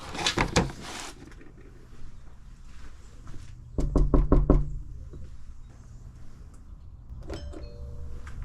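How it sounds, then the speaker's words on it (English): Knocking on a customer's door during a food delivery: a short burst of knocks at the start, then a quicker run of about five knocks midway, followed by fainter clicks and rattles, near and without talk. "Knocked on the door, rang the doorbell, no response."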